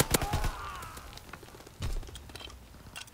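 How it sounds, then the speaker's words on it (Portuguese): Bursts of gunfire in Call of Duty WW2, sharp cracks and quick volleys, over a noisy, busy background with scattered clicks. "tava chegando o som pra mim aqui que ele tava tomando tiro"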